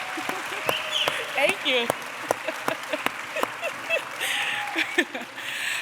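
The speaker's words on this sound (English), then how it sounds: "Can we get a round of applause for all Prosperity Maine staff?" Applause for Prosperity Maine staff at a community block party, scattered clapping with sharp individual claps, under talk and voices, with a brief thank-you spoken.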